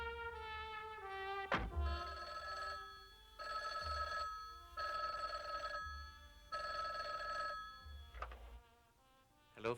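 An old-style telephone bell rings in repeated bursts, four long rings with pauses between, loud and close in a quiet room with no talk.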